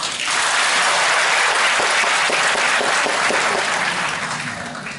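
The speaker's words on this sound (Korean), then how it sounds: "박수 한번 해주세요" A seated audience bursts into sustained applause for the nine contestants at a women's week lecture competition, a dense, steady roar of clapping that holds loud for about four seconds before tapering slightly.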